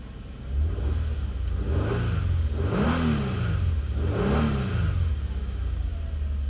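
A car engine rumbles steadily close by after starting, idling at about 750 RPM, with a few brief revs rising and falling over the idle.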